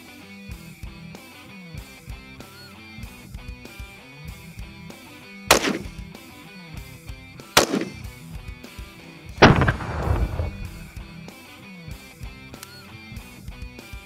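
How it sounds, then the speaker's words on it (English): Rifle shots from a Buggy 15 and an AK-47 strike a skillet outdoors, three sharp loud cracks spaced a couple of seconds apart, the last with a ringing metallic clang, over quiet background music. "I just wanted to shoot the skillet because it pisses me off"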